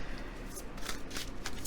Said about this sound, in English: I think I could probably do the riffle shuffle.